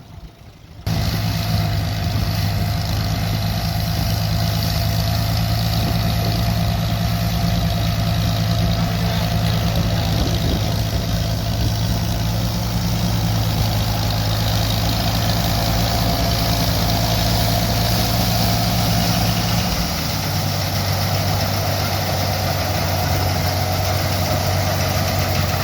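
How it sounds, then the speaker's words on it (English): Case 350 tractor engine pulling an Allis combine at a threshing bee, a loud, steady chugging drone that runs the whole time with a slight shift in pitch near the end, close by and with no talk. "have another look at this 350, pulling this Alice combine, chugging along at a nice steady pace"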